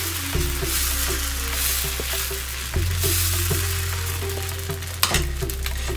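Mysore masala dosa batter sizzles steadily on a hot pan as it is spread from the center outward, a close, continuous frying hiss with faint scraping clicks and no talking.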